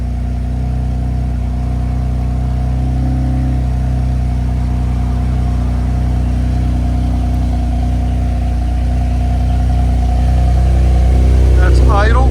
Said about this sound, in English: It's a cold start